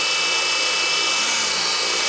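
A remote-control helicopter, a Lighthawk Aero set up with a DH 9100, hovers steadily with a continuous broadband whine and rotor hiss, loud and near, without talk.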